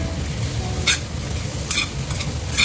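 Boiled pigeon peas sizzle steadily while frying in a pan, with a few sharp scraping stirs of a spoon cutting through the continuous close hiss.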